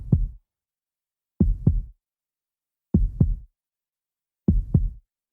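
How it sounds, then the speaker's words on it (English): Deep heartbeats from the video game Chrono Cross, four evenly spaced double thumps about a second and a half apart, low and heavy with silence between them. "once we proceed to that large door, we are greeted by deep, deep heartbeats."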